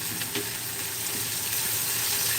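Chicken and vegetables sautéing in a pan for a chicken fajita casserole, a steady broadband sizzle running continuously without a break.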